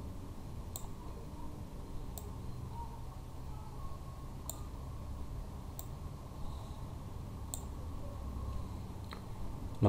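Mouse clicks from editing a picture in PowerPoint: six sharp, isolated clicks spaced irregularly over a quiet, steady background hum, close and fairly faint.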